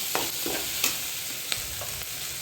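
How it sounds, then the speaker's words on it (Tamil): A small piece of crushed ginger and four or five crushed garlic cloves sauté in a pan, giving a steady close sizzle broken by a few sharp scrapes and clicks of stirring, with no talking. "ஒரு சின்ன பீஸ் இஞ்சி, 4-5 பூண்டு பல் இது போட்டு தட்டி நல்லா வதக்கிக்கணும்."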